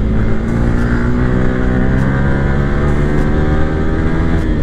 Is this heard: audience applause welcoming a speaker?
no